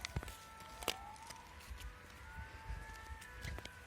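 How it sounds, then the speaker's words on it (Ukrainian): An ambulance siren wails steadily in the background near a railway station, its pitch slowly rising and falling, with occasional clunks and footsteps nearby. "Коротше, там їде швидка допомога."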